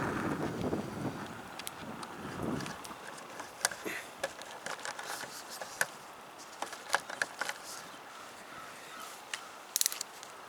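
Wind gusts across an outdoor microphone in the first three seconds beside a wood gasifier stove, then ease to a light breeze under scattered sharp clicks and taps.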